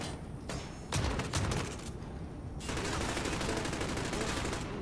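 Sustained automatic gunfire in the video game Call of Duty: Modern Warfare, dense rapid bursts with louder heavy reports near the start, continuing unbroken at steady loudness throughout.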